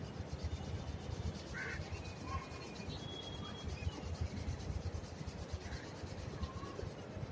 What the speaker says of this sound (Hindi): हथेलियों को आपस में रगड़ें